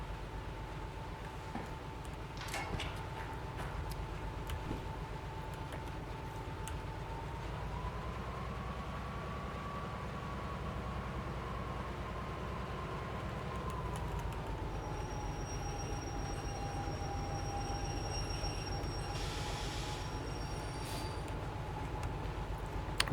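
Steady mechanical hum of a locomotive turning on a rotating turntable in the Derail Valley train game, a continuous droning tone that bends slightly in pitch midway, with faint metallic rail squeals and clicks near the end.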